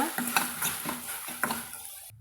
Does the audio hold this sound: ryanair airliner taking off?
no